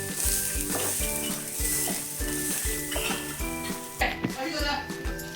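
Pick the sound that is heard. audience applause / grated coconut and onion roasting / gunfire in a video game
grated coconut and onion roasting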